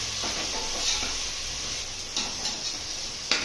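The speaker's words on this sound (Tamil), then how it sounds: "வெங்காயத்தை வந்து நல்லா ப்ரௌன் கலர் வர அளவுக்கு நல்லா வதக்கிக்கணும்" Onions with salt sautéing in a pan, a steady soft sizzle with occasional light scrapes and clicks from stirring, close and moderate in level, with no voices.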